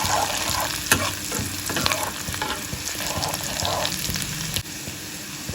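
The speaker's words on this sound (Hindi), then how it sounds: "तो साथ में अच्छे से फ्राई कर लेंगे, हल्का सा ब्राउन होने देंगे प्याज" Onions and green chillies fry in hot oil for dal tadka, giving a steady close sizzle broken by the scrape and clink of stirring, with no talking.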